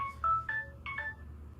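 A telephone gives a short run of electronic ring tones, three or four quick chirping beeps at moderate volume, alone in a quiet room.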